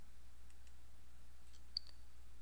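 A single sharp computer mouse click, close and isolated against a quiet background hiss, with a faint second tick just after it.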